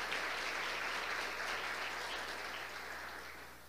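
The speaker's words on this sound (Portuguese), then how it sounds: "Dê um aplauso ao Senhor" A church congregation applauding the Lord during a service, dense sustained clapping from many hands at a moderate distance, steady and gradually tapering toward the end.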